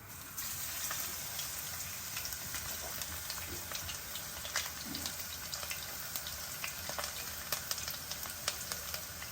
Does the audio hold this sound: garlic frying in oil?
yes